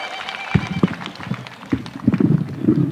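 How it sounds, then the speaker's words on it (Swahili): A crowd claps in scattered, uneven bursts at an outdoor burial service for victims of illicit brew in Kirinyaga, with loose, patchy applause building toward the end. "Tumpigie makofi tafadhali."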